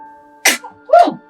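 Close by, one person gives a sharp, loud sneeze, a quick intake followed by a burst, against a quiet room hum.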